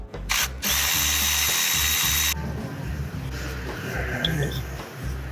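A power drill or impact driver whirs loudly for about two seconds while removing ignition coils and spark plugs from a 2005 Porsche Cayenne S V8, followed by quieter ratcheting and clinking tool handling with someone talking.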